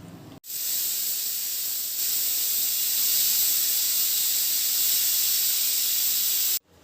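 A pressure cooker boiling urad dal vents steam in a loud, steady, hissing whistle that starts abruptly, holds strong for about six seconds and then cuts off, close up with no talking.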